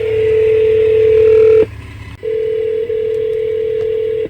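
A telephone line gives a loud, steady tone that cuts off briefly and then resumes, with a few faint clicks, as a number is dialed on a radio station phone system.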